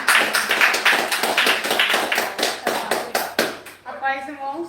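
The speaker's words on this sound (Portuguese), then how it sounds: "Mais palmas para Jesus" A church congregation claps in a fast steady rhythm during a Friday worship service, loud and close, before a voice speaks at the end.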